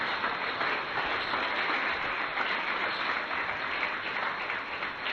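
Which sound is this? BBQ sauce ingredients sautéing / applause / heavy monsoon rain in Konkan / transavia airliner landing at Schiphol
applause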